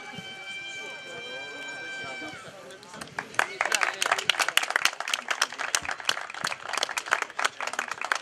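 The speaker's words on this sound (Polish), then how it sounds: "Brawa, proszę Państwa" Audience applause at a football club's 65th anniversary ceremony breaks out after a few seconds of talk, growing into dense, sharp clapping from a nearby crowd that continues to the end.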